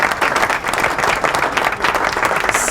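Virtual studio audience applause plays as a sound effect, a dense, steady wash of clapping at constant loudness throughout, with no voices over it.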